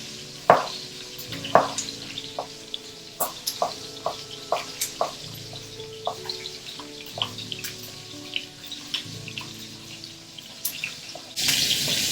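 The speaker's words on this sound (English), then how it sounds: "It's starting to really pop, sizzle, so I'm turning it down a bit." Scattered pops and crackles of chicken frying in a pan over a low sizzle, irregular sharp clicks throughout, with a louder hiss at the end.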